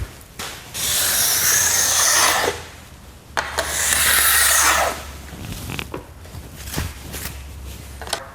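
Ski edge filed with a file held in a clamp guide: two long, steady rasping strokes up close, each a couple of seconds, followed by quieter scraping and light handling noises.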